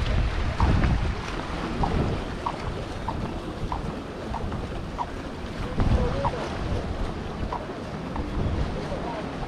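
A tour boat on an hourly harbour trip approaches and docks at Eski Foça, with a low steady motor rumble carried under gusting wind and water noise throughout, a few faint voices in the distance.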